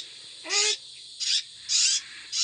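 Young hawk chicks in a nest call for food, four loud, harsh screeching bursts about half a second each, evenly spaced and close, with quiet gaps between.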